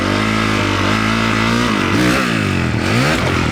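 A motorcycle engine in too low a gear, accelerating hard up a jump face, its loud revving pitch climbing and wavering as the throttle surges near the end, with no talk over it.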